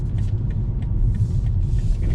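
A BMW 320i M Sport pulls in, its engine a close, steady low rumble with light road noise across a couple of seconds, no voices.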